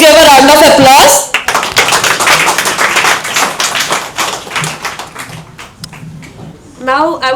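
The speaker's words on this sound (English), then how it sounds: "let us give a round of applause" Audience applause at a stage event breaks out after a voice near the start, with dense clapping that fades gradually, and a voice returns at the end.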